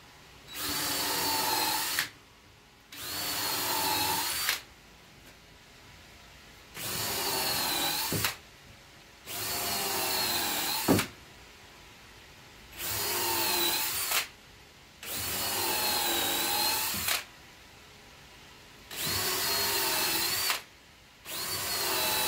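A power drill pre-drills a series of holes in wood for rodent rat rack shelves, running in about eight steady bursts of roughly two seconds each with short pauses between, loud and close, with no talking.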